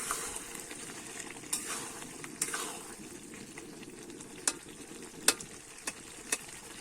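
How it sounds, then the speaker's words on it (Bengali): A fig and potato curry with prawns simmers softly in a pan while a spoon stirs it, producing a faint steady bubbling hiss broken by occasional sharp scrapes and clinks. "এবারে কিন্তু ভালো করে আমি ফুটিয়ে নেব কিন্তু এবারে নেড়ে নেব একটু"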